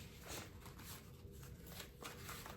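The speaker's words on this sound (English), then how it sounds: "let me do a quick shuffle here" Large playing cards from a red deck being shuffled by hand, a quick riffle and bridge with repeated papery flutters and snaps, close and steady at low volume, with no talking.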